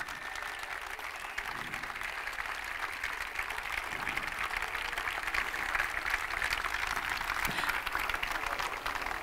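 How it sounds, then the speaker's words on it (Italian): Sustained applause from an audience at the official season presentation of the Carpegna Prosciutto Basket Pesaro team, a steady dense wash of clapping that holds for several seconds and swells slightly toward the end, with no talk over it. "Facciamo intanto un applauso a questi ragazzi di nuovo."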